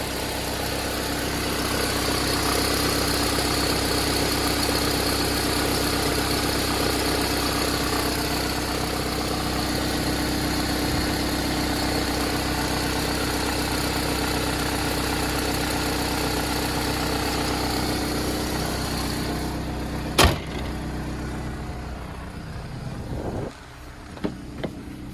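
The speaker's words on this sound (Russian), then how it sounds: "Не могу понять, что с мотором, почему он трещит." A Toyota Harrier's 5S-FE engine with a crackling fault idles in a steady, continuous drone, then a sharp click is followed by the running note fading away near the end.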